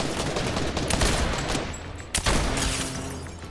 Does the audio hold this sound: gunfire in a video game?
yes